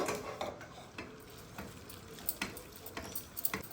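Boiled gongura leaves, tomato and green chillies being mashed in a pot, with soft irregular scraping and squelching strokes and occasional light clinks of a utensil against the vessel, close and fairly quiet, no talking.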